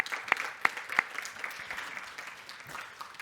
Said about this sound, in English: again, applause for Is to Zadaya for her thought study.